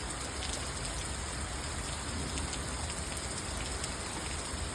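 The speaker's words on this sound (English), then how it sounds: "I like the rain." Steady rain falls outdoors in a residential neighbourhood, a dense continuous patter of drops on surfaces with no voices.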